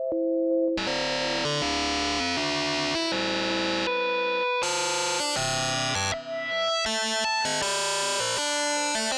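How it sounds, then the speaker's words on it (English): Sine tones run through wave shaping distortion in the ShaperBox 3 plugin, a continuous buzzing chain of shifting harsh, harmonically rich chords and intervals, steady in level with no pauses. "listen to what happens when I enable the wave shaping again"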